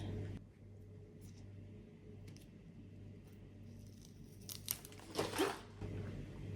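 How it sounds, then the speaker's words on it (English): Scissors or a blade cut through a Thai Constellation Monstera root during repotting into LECA, giving a few quiet crunching, tearing snips near the end over a low steady hum. "So I'm going to have to cut under this root over here."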